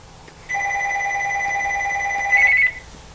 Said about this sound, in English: Now we're getting a lot of phone calls here